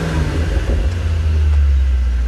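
Mercedes-AMG GT 63 S started in race mode, its engine settling into a loud, deep, rumbling idle close by that swells slightly toward the end.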